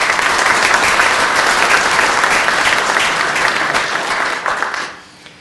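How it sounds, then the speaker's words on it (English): An audience at a memorial celebration of life breaks into loud, sustained applause, a thick roar of clapping that carries evenly for about five seconds and then tapers quickly into near silence. "How about a round of applause for Lola?"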